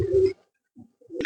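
Pigeons cooing close by, two short soft throaty coos separated by a brief silence, with a third starting at the end.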